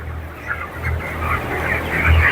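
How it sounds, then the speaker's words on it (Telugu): Broiler chickens cluck and chatter continuously inside an EC poultry shed, a dense flock murmur over a steady background hum. "బర్డ్స్ అయితే హెల్తీగా గ్రోత్ అవుతున్నాయి."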